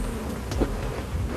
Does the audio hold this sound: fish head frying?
no